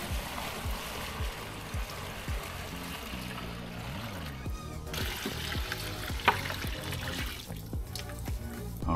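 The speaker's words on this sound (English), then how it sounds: "fill the rest of it up with water, and then pour it in the reservoir down there" A coolant and water mixture pours steadily into the reservoir of an MR1 milling machine, giving a continuous trickling, splashing flow at close range with no talking.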